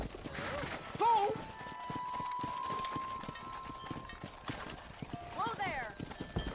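Hooves clip-clop in a rapid gallop in the Red Dead Redemption video game, with a horse whinnying, game characters talking over the hoofbeats, and a brief tonal sound effect.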